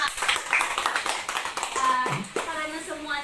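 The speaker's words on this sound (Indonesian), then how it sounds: "Ucapkan terima kasih dan tepuk tangan sekali lagi untuk kalian semua." Schoolchildren in a seventh-grade classroom clap in scattered, uneven bursts, with young voices and an adult speaking over and after the clapping.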